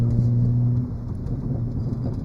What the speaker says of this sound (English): My exhaust pops and crackles and burbles sound absolutely wicked now.